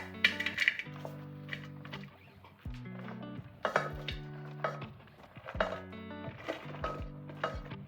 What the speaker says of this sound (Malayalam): ചട്ടിയിലേക്ക് കഷ്ണങ്ങളൊക്കെ ഇട്ട് കൊടുക്കുക.